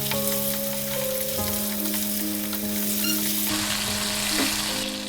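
Sugar stirred in hot oil in a pan for dhokar dalna gives a continuous close sizzle, with a few clinks and scrapes of the spoon and a faint tone in the background.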